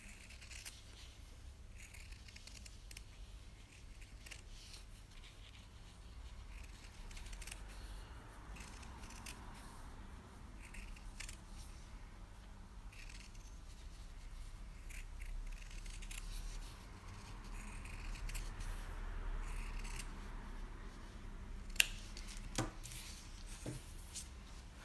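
Scissors trim the seam allowance of sewn fabric, giving soft, quiet snips close by that repeat irregularly over a faint, steady background with no talking.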